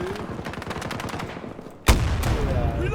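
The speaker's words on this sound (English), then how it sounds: "2 men shooting at a man that spawned." Rapid video-game gunfire rattles in quick bursts from several shooters at a freshly spawned player, then a sharp louder blast cuts in and the firing continues, dense and close.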